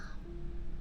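A person imitates an owl whistle with their voice, giving one thin sustained whistled tone over a low background murmur.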